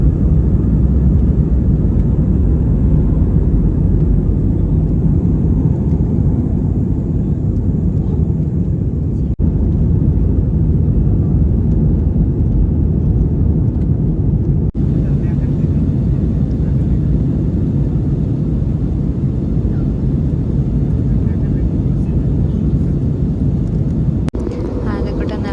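Airplane cabin noise during takeoff, a loud, steady low roar and rumble filling the cabin throughout, with only slight shifts in level.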